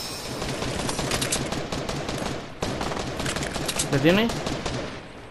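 Dense automatic gunfire in the Fortnite video game, rapid bursts rattling continuously for several seconds with a brief break midway, while players talk over the shooting.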